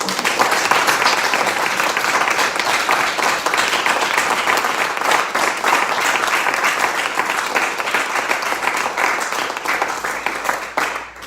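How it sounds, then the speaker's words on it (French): Loud, sustained applause from an audience at a French municipal gathering, dense clapping that holds steady for several seconds before tapering off at the end. "je souhaite qu'on les applaudisse encore une fois."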